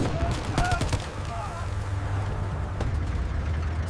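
Gunfire in a 1942 desert battle crackles in rapid bursts of sharp shots over a low rumble of combat. The shots are dense early on and then sparser, and faint voices sit in the mix.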